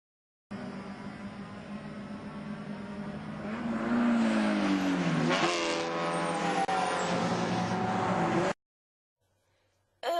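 Touring race cars at a US Touring Car Championship round roar past side by side, engine pitch climbing and then sweeping down as they pass, loud and fairly close before cutting off abruptly.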